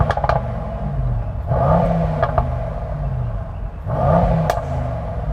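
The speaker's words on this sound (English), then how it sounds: "I'm going to rev up the Merc first." A stationary Mercedes-AMG E63 S V8 with a petrol particulate filter and a 4,000 RPM soft limiter is revved loud and close, two rising blips swelling over a burbling idle.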